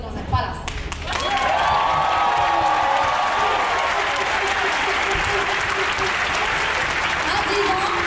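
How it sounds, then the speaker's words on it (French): An audience breaks into sustained applause after a short lead-in, a dense wash of clapping with some cheering from the crowd, loud and steady, with a voice speaking over it. "Même si vous applaudissez, je vais continuer de parler"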